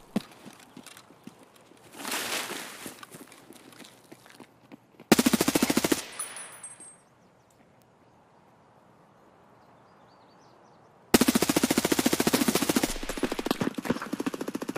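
Automatic gunfire in Escape from Tarkov comes in loud bursts: a sustained rattle early on, a sharp volley, a quiet gap, then a long rapid burst near the end, with no speech.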